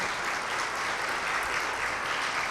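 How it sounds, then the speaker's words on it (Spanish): A church congregation applauds loudly in praise during a worship service, a dense, steady wash of clapping that fills the space without a break. "glorifique y aplauda fuerte la grandeza de ese Rey victorioso"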